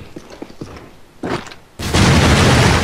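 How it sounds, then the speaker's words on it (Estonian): A few sharp dull thuds and a heavier burst in Call of Duty: Modern Warfare on the Crossfire map, then a sudden loud sustained roar of explosion noise that stays at full volume. "Yay! Explosions!"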